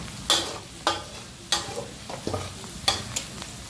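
Curry powder is stir-fried in a pan for a crab curry, with about five distinct scraping stirs close by over a continuous sizzle.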